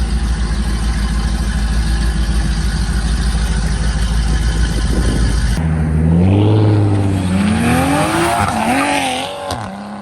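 A red Chevy truck leaving a cruise-in car meet outside a pizza house, with a loud, close, steady engine roar that cuts off abruptly, followed by a rising, squealing whine.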